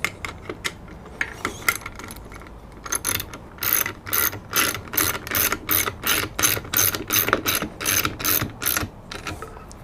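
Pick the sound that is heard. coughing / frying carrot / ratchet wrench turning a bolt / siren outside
ratchet wrench turning a bolt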